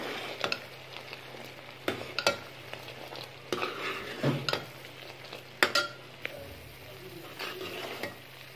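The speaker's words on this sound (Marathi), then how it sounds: "हे बघा पाकाला उकळी आलेली आहे।" Sugar syrup boils on a gas stove in a pot, a soft bubbling hiss beneath repeated sharp metallic clinks and scrapes of a spoon stirring, irregular and close.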